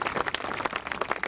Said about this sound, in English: Give Ed a nice round of applause,